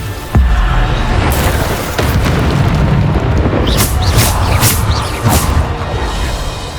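Booming spell blasts from the Bombarda charm in the Hogwarts Legacy video game, a thudding explosion followed by rolling rumble and several sharp crackling bursts layered over continuous game combat noise.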